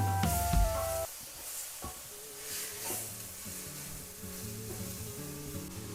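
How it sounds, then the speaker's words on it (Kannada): Onions and tomatoes fry in a pan for a Malenadu village-style dish, with a steady close sizzle and hiss as they are stirred. A faint tonal background runs underneath. "ಅಲ್ಲಿವರೆಗೂ ನಾವು ಫ್ರೈ ಮಾಡ್ಕೋಬೇಕು."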